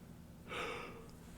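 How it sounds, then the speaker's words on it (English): A person yawns once, a short breathy rush of air that rises and fades, quiet and close, with no talking. "Wouldn't be a YouTube video if I didn't yawn in it."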